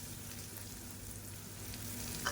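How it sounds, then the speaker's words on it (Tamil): Onions sautéing in a pan with green chili, garlic and pepper paste, a steady close sizzle with no talking. "இப்போ நல்லா ஒரு ரெண்டு நிமிஷம் வதக்கி வச்சுக்கலாம்"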